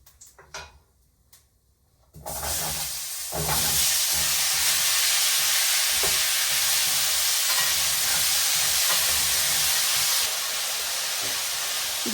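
Pumpkin frying in a pan with dried chili and nigella seeds, a loud continuous hiss and sizzle that bursts in after a quiet start and stays steady, with occasional stirring knocks and no talking.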